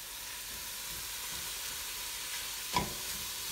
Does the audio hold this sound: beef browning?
yes